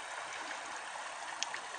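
Water of the Jolapa river in the Jalisco sierra flows in a steady, soft broadband rush, faint and continuous with a couple of small splashy ticks, no voices.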